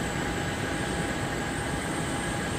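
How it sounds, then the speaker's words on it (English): A turboprop-converted DC-3 departing Anchorage airport, a loud, unbroken engine roar with a sustained high whine layered on top, no voices. "DC-3 off to Fairbanks. This is, of course, like I say, it's a turboprop conversion"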